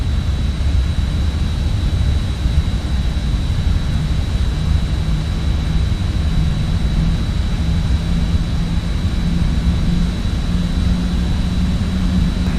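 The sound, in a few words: RJ airliner jet engines on takeoff, Microsoft Flight Simulator video game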